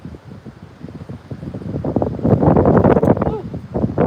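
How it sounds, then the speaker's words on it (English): Wind gusts rush across the microphone while riding in an open buggy on resort grounds, a rough broadband roar that swells louder midway and stays close and steady. "The wind is so nice."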